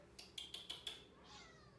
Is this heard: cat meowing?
yes